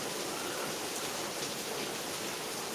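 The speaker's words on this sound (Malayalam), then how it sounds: "ഇപ്പം മഴയുടെ ശക്തി കുറച്ചൊന്ന് കുറഞ്ഞു" Continuous steady rain hisses evenly, a dense wash of falling drops with no voices or breaks.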